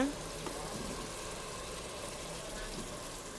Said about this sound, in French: ici, on est prêt à ajouter nos tomates